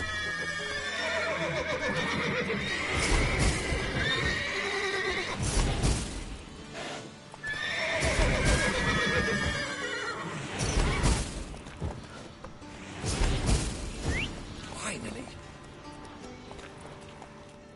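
Horses in The Witcher 3 whinny and neigh loudly in several shrill, rising calls, with clattering hooves and a scuffle of movement between them, close and busy.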